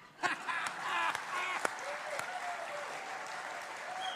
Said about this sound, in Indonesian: Tepuk tangannya tidak ikhlas.